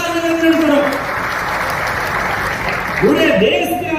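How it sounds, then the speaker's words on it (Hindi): Audience applause at a chief minister's political rally in Lahar, Bhind, a dense steady clapping that fills the whole stretch, loud and continuous, with a voice speaking over it at the start and again near the end. "अभी तो ताली बजाओ"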